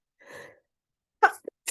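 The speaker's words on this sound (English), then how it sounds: "I'm about to sneeze." A single sharp sneeze bursts out after a brief breathy intake, followed by a couple of quick short sniffs or exhales close to the microphone.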